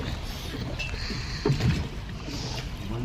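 A boat moving across open water during a ride, with a steady wash of water and wind noise, a brief splash or bump midway and faint voices in the background.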